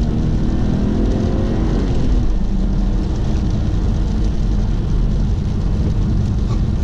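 A stock BMW 135i without a limited-slip differential drifting, its engine giving a loud, steady roar throughout with a brief swell in the middle, up close and with no talk over it.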